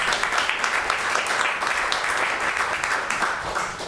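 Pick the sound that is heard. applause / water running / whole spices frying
applause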